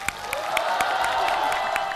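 A studio audience at a Chinese comedy show bursts into warm applause: dense, rhythmic clapping with light cheering mixed in. It lasts a couple of seconds.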